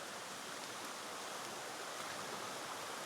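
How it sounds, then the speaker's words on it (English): A small creek in the Georgia mountains flows in a steady, close wash of rushing water that stays constant throughout, with no voices over it. "Yeah, check this out. Little creek."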